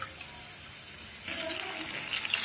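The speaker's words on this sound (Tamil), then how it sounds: "அதே மாதிரி இந்த டம்ளர் 2 டம்ளர் தண்ணி ஊற்றணும்" Two tumblers of water are poured into a pan while making upma, heard as a faint, steady trickle that becomes a fuller gush partway through.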